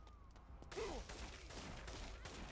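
Enemy gunfire aimed at the player in InFAMOUS Second Son sounds as a quiet, distant volley of shots with a whooshing effect, faint and brief, with no talking.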